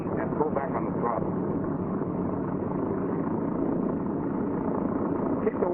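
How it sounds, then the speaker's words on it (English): A piston aircraft engine runs with a steady, dense droning rumble that holds constant throughout, a voice talking over it. "As soon as this engine fires, move mixture control immediately to auto rich and pull back on the throttle."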